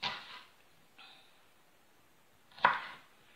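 A knife chopping an onion on a board: a few isolated cuts spread over a few seconds, a soft slice near the start, a faint one a second later and a sharper, louder chop near the end, close in an otherwise quiet room.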